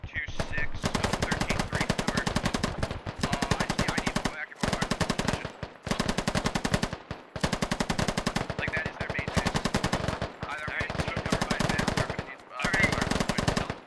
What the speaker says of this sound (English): This is the MG, the medium machine gun that they've got access to.